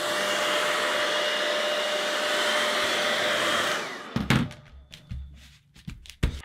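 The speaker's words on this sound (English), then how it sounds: "It does help to use a hairdryer to activate the tape." A hair dryer blowing steadily up close to warm tape on an acrylic pour project, a loud whirring hum that switches off after about four seconds, followed by soft handling thumps and taps.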